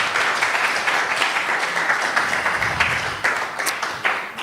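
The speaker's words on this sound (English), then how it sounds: "Let's give him one more round of applause." A live audience gives a round of applause at a summer lockdown show, a dense, steady patter of many hands clapping throughout at moderate level.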